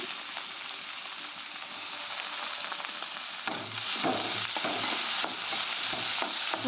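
Bottle gourd curry fries and sizzles in a pan while being stirred, a continuous hiss with scraping stir strokes that grow louder and busier in the second half.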